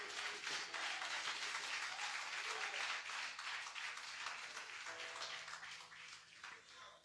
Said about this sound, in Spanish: Dele palmas a Cristo, hermano.